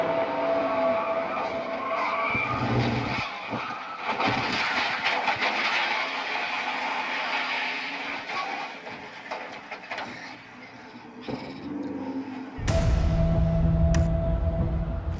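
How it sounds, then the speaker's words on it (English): NASCAR stock cars roaring around the trioval during a major crash, a loud, dense engine roar broken by abrupt bursts and drops, ending in a heavy low rumble. "We got a major crash to the trioval."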